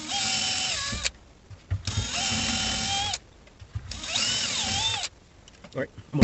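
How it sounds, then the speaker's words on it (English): A power drill cuts holes into PVC in three sustained whining bursts, each a second or two long, separated by brief quiet gaps with faint handling noise. "finish drilling these out."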